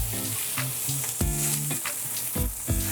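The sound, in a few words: aromatics and venison sizzling as they go into the pot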